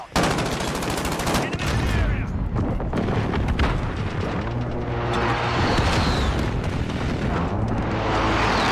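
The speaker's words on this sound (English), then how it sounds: "Be advised, friendly position airstrike inbound." Airstrike explosions in Call of Duty Modern Warfare multiplayer, loud continuous booms and gunfire rumbling throughout, with game voice chatter mixed in.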